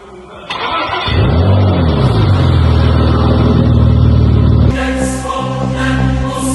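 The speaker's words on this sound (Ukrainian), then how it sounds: "Запуск Макана." A 2014 Porsche Macan engine cranks and fires up after a rebuild, then settles into a loud, steady idle that drops slightly in pitch, close by.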